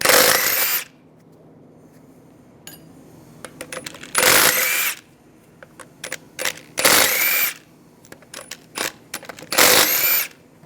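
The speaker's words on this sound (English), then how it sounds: "Take the lug bolts out." Power tool with a 17mm socket zipping lug bolts out of a 2006-2009 Mercedes-Benz E350 front wheel, four loud bursts each under a second long, separated by quiet gaps with small clinks and metallic rattles of bolts.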